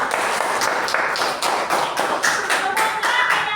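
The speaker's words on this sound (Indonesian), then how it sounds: "Tepuk tangan untuk kalian semua." Students in an Indonesian classroom clap together in a steady rhythm of sharp, close hand claps filling the room, loud and continuous with no talking over it.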